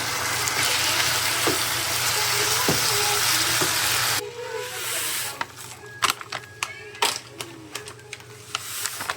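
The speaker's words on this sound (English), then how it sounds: "Just want to cook down this liquid so it's not really runny." Liquid from a fully cooked burger sizzles and bubbles down in a pan, a steady broadband fry for the first few seconds, then thinner crackles and pops with irregular sharp spits.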